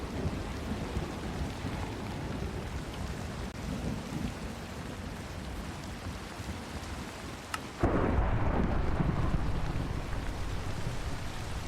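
Steady heavy rain and a low rumble of thunder roll on throughout in the Minecraft modpack All The Mods Gravitas², with a sharp crack around the eight-second mark and a louder, denser downpour after it.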